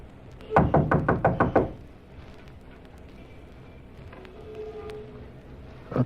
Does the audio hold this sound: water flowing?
no